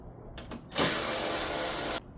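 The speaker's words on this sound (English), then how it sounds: "the next step is to remove the 3 8mm bolts" A power tool whirs close by for about a second while removing 8mm bolts from the tail light bracket on an S650 Mustang, preceded by a few faint clicks and with no talk.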